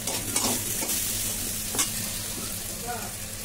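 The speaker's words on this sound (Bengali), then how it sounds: "আলুগুলো ভাজা হয়ে এসছে" Potato pieces frying in oil with salt and turmeric in a kadai, a steady close sizzle with occasional stirring scrapes and clinks.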